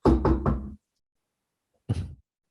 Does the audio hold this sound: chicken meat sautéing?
no